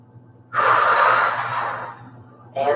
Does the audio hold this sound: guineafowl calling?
no